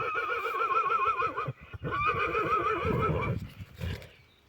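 A stallion offered for sale on a farm gives two long, wavering neighs, the first running about a second and a half, the second following after a brief pause, fairly close, with muffled stirring and shuffling underneath.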